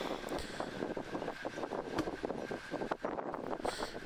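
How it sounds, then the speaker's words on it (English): Strong wind of around 30 miles per hour gusts across an outdoor vegetable garden, a steady close roaring rush with fluctuating surges and no talking. "you can pretty much see the wind's really picked up now. I think we've got like 30-mile-an-hour winds now"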